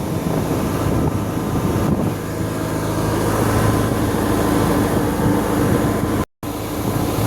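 Boat engine running at sea at night during a rescue of another boat, a steady loud low drone with heavy wind buffeting the microphone, continuous throughout apart from a brief dropout near the end.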